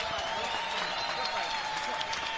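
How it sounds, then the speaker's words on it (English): Crowd applause fills an arena in Orlando after a ten-round boxing fight, steady and dense clapping with some voices mixed in. "let's get a nice round of applause out here for both of these fighters"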